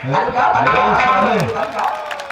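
A crowd at a nautanki folk theatre performance applauds and cheers loudly while a voice talks over the clapping throughout.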